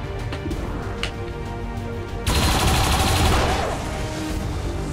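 Rapid automatic turret fire in the sci-fi tactics game XCOM 2, a loud dense burst of shots erupting after a quieter stretch, then tapering into lingering rattling noise.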